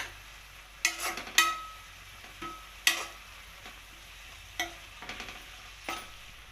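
Spinach chutney with garlic is stirred in a frying pan, a handful of sharp spoon scrapes and taps spaced irregularly over a faint sizzle.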